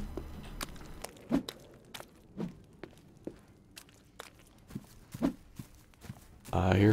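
Footsteps in the survival game The Forest: a steady series of crunchy, fairly close steps on a rough surface, softly paced over a quiet background, with a person talking.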